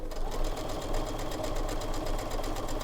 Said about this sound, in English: I'm just going to sew down the line that I drew